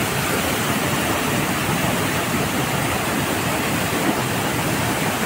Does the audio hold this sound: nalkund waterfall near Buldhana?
yes